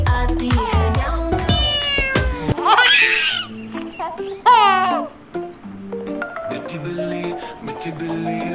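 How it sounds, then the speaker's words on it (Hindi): Cat meows from a Hindi children's song play loudly over bright music, several rising and falling cries in quick succession, with giggly childlike laughter and sung vocals around them. "म्याओ म्याओ करती है"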